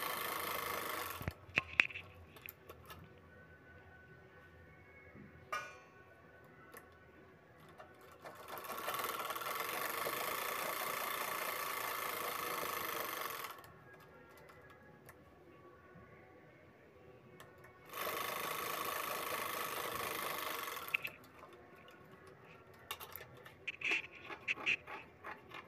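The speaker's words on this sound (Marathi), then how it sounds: "आता आपण या ठिकाणी तिन्ही साईडनं आपण शिलाई करून घेणार आहोत।" A sewing machine stitches the sides of a simple cloth bag in two long, steady runs of close, buzzing stitching, separated by quiet pauses with small handling clicks.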